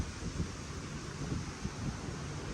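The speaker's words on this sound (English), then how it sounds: "It's really windy today." Strong outdoor wind buffets the microphone in a dense, steady roar with low rumbling gusts throughout, and no voice can be heard.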